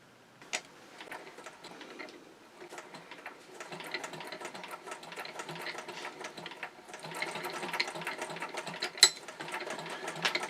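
A sewing machine from Promethean Sewing Machines runs and stitches, a steady fast mechanical clatter that starts, briefly pauses, then builds and continues close up with a rhythmic ticking drive.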